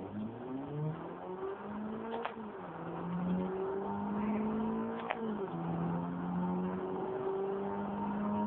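A roughly 1999 car is driven in Forza Horizon, its engine revving up and down through repeated gear shifts, a loud, continuous close-up drone with rising pitch sweeps and faint tire noise.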